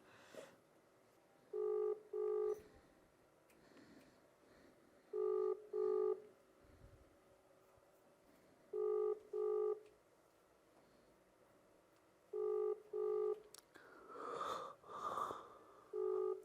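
A phone ringback tone repeats in paired beeps at regular intervals, unanswered, quiet and thin, with faint background noise between rings.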